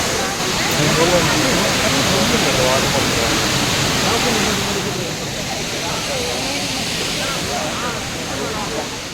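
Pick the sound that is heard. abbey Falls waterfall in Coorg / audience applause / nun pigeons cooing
abbey Falls waterfall in Coorg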